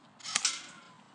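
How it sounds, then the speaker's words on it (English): M4-style airsoft rifle fired during a shooting test: two quick, sharp pops in close succession, fairly faint, followed by a short fading tail. "I'm gonna be doing a shooting test just right here."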